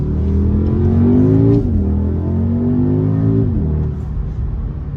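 Audi SQ2 engine accelerating through the gears, a loud close growl rising in pitch, dropping at each upshift, then easing off as the car settles.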